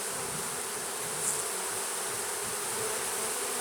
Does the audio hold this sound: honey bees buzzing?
yes